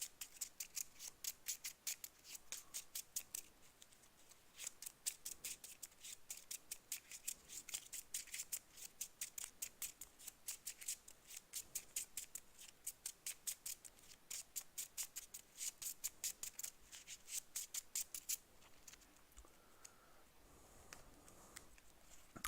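Cards from a Scarlet Keys campaign deck being shuffled, a fast steady run of crisp riffling clicks that continues for about eighteen seconds close up, then stops, leaving faint rustling.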